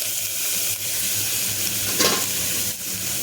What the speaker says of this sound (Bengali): একটুখানি হালকা করে এটাকে ফ্রাই করে নেব আমি।